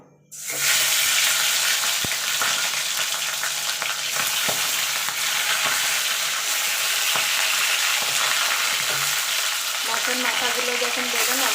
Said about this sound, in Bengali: তেলটা গরম হয়ে গেছে এবার মাছের মাথাগুলো আমি ভেজে নেবো